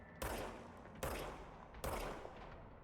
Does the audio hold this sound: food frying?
no